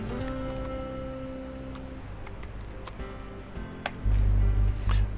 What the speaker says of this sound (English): or if you want, I could just type in here